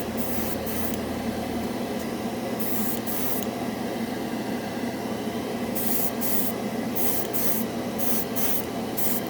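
A continuous hissing spray of metallic paint runs steadily and close up, broken by short sharp bursts of higher hiss in quick succession.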